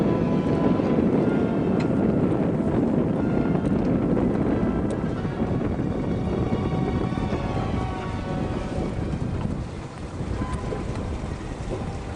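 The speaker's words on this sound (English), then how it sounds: "Here comes the wind." Strong wind roars steadily across a sailboat under sail in snowy northern weather, a loud continuous buffeting rush with no voices.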